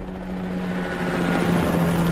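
Helicopters in a zombie-apocalypse heist video game, a steady rotor drone with a low throbbing hum holding constant throughout, loud and close with no talk over it.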